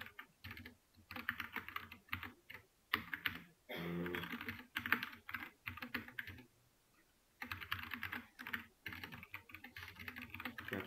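Steady, fast typing of code on a computer keyboard, close and clear, in dense bursts of keystrokes broken by brief pauses, with no talking.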